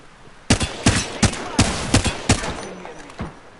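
Rapid gunfire in the battle royale game Apex Legends: seven loud, evenly spaced shots roughly a third of a second apart, each cracking sharply and fading into reverberation, the last few slightly softer.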